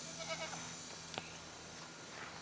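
Goats on a farm bleat faintly in the distance, with a few soft wavering calls over steady outdoor background noise and a brief sharp knock partway through.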